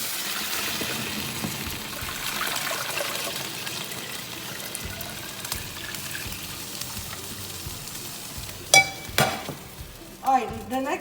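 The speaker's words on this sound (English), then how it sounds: "So after you add the oregano, you just stir it around." Oregano frying and being stirred in a pot while making meatball soup, a steady sizzle with scraping stirs throughout, then a few louder clanks and splashy bursts near the end.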